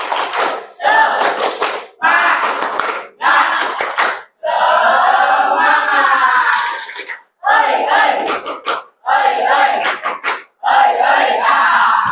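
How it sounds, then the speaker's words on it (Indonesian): A classroom of students stands and performs a rhythmic clap-and-chant routine, loud group voices shouting in unison between bursts of sharp, patterned hand claps with short pauses between phrases. "Kita tepuk semangat."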